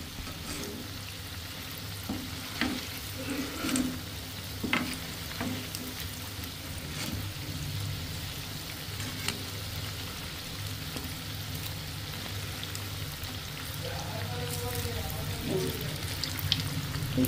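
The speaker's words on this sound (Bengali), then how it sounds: "এইগুলোকে আমি উল্টিয়ে পাল্টিয়ে আর একটু গোল্ডেন কালার করে ভেজে নেব" Sambar vadas deep-fry in oil until golden, giving a long, steady rain-like bubbling hiss at moderate volume, with occasional soft clinks and stirring sounds and brief, faint voices in the background.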